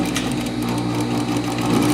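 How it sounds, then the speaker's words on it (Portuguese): A sewing machine runs steadily, stitching a seam on a double-faced coat, its fast, even mechanical whir continuing close and unbroken throughout. "a gente vai passar a costura aqui, ó"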